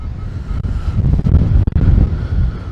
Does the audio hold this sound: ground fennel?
no